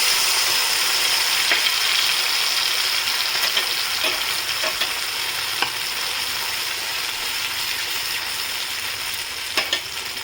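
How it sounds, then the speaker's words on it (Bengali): Spice paste for paneer is poured into hot oil and fries with a loud, steady sizzle and crackle, close up, with a few faint scraping knocks scattered through and no voices. "তেলটা গরম হয়েছে এতে কিচ্ছু ফোড়ন না তেজপাতাও না এই পেস্টটা যেটা করেছি এটাকে আমি ঢেলে দিচ্ছি"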